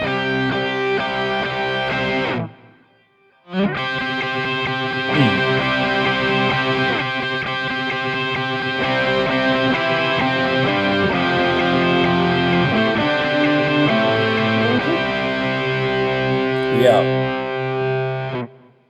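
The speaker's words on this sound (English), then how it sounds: "So that's how I'll use distortion." A heavily distorted electric guitar plays sustained chords within a dense mix, dropping out briefly before returning loud and continuous.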